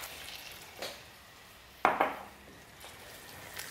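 Squid ink rice being stirred with dried seaweed in a pan, a few scattered scraping clinks of a utensil against the pan, one sharper pair of knocks standing out amid quiet gaps.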